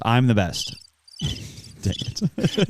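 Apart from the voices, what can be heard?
cricket chirping sound effect from podcast soundboard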